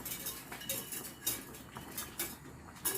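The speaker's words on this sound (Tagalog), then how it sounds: "So, stir natin hanggang matunaw." Gulaman gelatin powder being stirred in a pot until it dissolves, with light scraping clinks of a utensil against the pot in a quick, steady rhythm, fairly close and not very loud.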